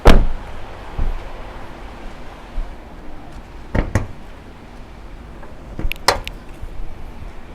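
Hood of a 2021 Toyota Revo D-Cab Prerunner 2.4 Entry manual pickup being opened, with a sharp latch clunk at the start followed by scattered metallic clicks and thumps over quiet ambience.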